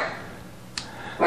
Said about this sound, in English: excuse the dog if you hear him because he's outside my door.